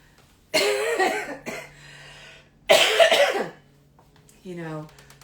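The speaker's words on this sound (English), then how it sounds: "The air there cannot be helping my cough." Two harsh bursts of coughing about two seconds apart, close and fairly loud, followed by a short throat-clearing sound.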